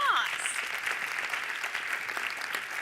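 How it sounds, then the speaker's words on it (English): An audience applauds a speaker at a school alumni gathering, a steady, dense wash of many hands clapping that holds evenly throughout, with a brief chirp-like sound at the very start. "give yourselves a round of applause"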